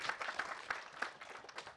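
An audience at a corporate customer meeting gives a brief, faint round of applause, scattered claps heard from a distance in a large room.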